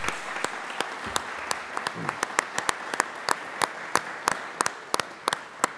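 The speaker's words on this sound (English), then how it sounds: "I want to ask for another round of applause for our veterans and for our singers" Sparse applause for veterans and singers at a North Dakota gathering, scattered sharp claps that pick up into a steadier rhythm, fairly distant and faint against the room ambience.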